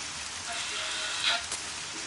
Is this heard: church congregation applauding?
no